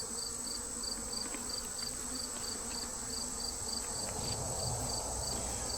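Honeybees buzzing around an opened hive while it is being inspected, a dense steady drone of many wings close by, continuous and moderately loud with no speech.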